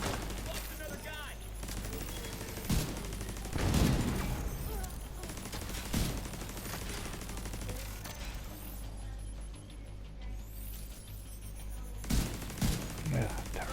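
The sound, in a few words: weapon firing with bonus in a video game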